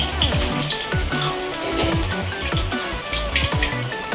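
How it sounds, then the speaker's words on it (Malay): Taro (keladi) pieces frying in a pan of hot oil, a steady crackling sizzle with bubbling pops, fairly loud and close, with faint tonal background sounds and no talk. "Ini yang sedang digoreng guys."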